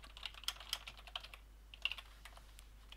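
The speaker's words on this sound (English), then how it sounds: "So I'm going to type this already" Quiet, quick typing on a computer keyboard while playing King's Quest 3, with a burst of clustered keystrokes, a short pause, then more scattered taps, close and faint.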